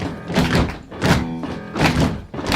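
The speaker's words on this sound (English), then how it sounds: "Now that you've got the beat, let me hear you stomp your feet." A crowd in the stands stomping feet for a cheer, with three heavy, booming thuds spaced evenly in a steady beat, loud and close.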